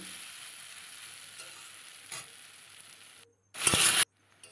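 Kochu loti (taro stolons) cooked with a mustard paste of onion, garlic and green chilli fry and get stirred in a pan: a low, steady sizzle with scraping and stirring, a burst of louder, harsher noise near the end.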